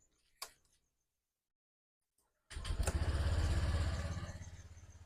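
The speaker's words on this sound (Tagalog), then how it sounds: "Tapos bubuksan na natin yung engine." A Honda Click scooter engine cranks and catches after a faint click and a silent pause, then settles into a loud, steady, pulsing idle close by that eases slightly toward the end.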